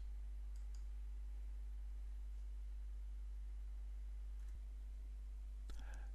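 Computer mouse clicks during Joomla 3 administrator work, a few faint, sharp clicks scattered over a quiet background with a steady low hum, the last ones near the end.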